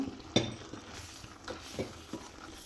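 Taro is stirred and mashed with a crushed coconut mixture in a pot while making chembu puzhukku, with soft scraping and a few light clinks of the utensil against the pot, fairly faint.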